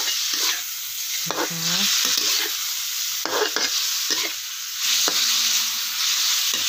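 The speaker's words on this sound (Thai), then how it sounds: "ผัดกระทะใหญ่เลยนะคะ" Mushrooms and pork sizzle steadily in a large hot wok while a utensil scrapes and clanks as it stirs. Someone speaks briefly over the frying.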